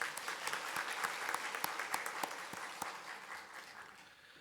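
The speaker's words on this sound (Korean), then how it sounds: "우리 기도원 차양대 위해서 격려의 박수 드리도록 하겠습니다" A church congregation at a Sunday Lenten service applauds the prayer house choir, a dense, even wash of many hands at moderate distance that holds steady and then fades away toward the end.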